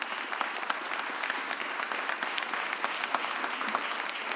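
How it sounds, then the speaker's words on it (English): Crowd applause at a mayor's press conference, steady dense clapping from many people for over four seconds, even and sustained at moderate distance. "Give him a round of applause"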